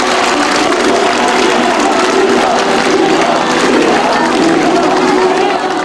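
A dense crowd of Catholic devotees prays and shouts together at night outside San Sebastian Church during the meeting of the Virgin Mary and Black Nazarene images, a continuous loud roar of massed voices.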